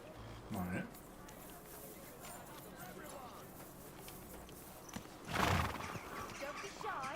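A horse in a video game whinnies and snorts, with clopping hooves, fairly quiet and low in the mix; two louder bursts stand out, one near the start and another past the midpoint, amid steady game ambience.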